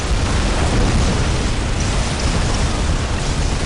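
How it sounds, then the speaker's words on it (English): Las cannons on a Rapier laser destroyer in Dawn of War Unification, a dense continuous roar of overlapping blasts, loud and unbroken. "Look at all those las cannons firing away."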